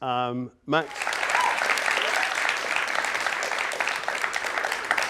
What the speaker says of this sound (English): Another round of applause for Leah.